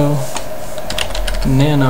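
Fast keyboard typing clicks from a computer keyboard while a sudo command is entered to set up a Raspberry Pi arcade, close and steady beneath someone talking.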